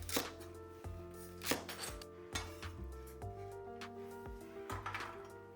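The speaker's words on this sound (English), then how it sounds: "Split the celery if you have to, so you get the very same size. Now cut this one to small pieces." A knife chops celery into small pieces on a cutting board for kung pao chicken, a series of sharp, fairly close thuds at an uneven pace with faint clinks between strokes.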